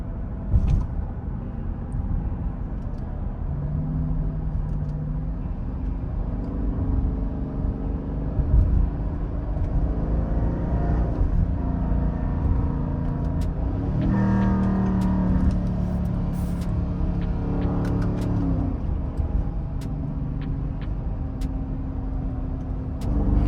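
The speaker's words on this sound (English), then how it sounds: "Y'all wanna hear my my paddle shifters?" A Dodge Durango R/T engine rumbles and revs in rising, stepped bursts, pitch climbing then dropping as gears shift with paddle shifters, steady and close throughout with no talking.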